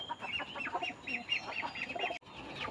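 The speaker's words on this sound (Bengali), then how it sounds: "এখন হাঁস মুরগি সবগুলোকে খাবার দিয়ে দেব" Ducks and chickens at feeding time on a farm make a busy, fairly faint stream of clucks and quacks, overlapping with no pauses and no voices.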